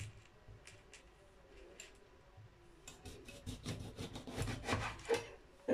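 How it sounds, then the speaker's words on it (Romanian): Knife slicing a lemon on a board, quiet rubbing at first, then a cluster of close, soft cutting strokes growing busier toward the end. "Tăiem și puțină lămâie."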